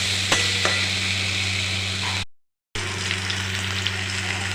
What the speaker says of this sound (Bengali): এই আলুটাকে ফ্রাই করে নিচ্ছি হলুদ আর লবণ দিয়ে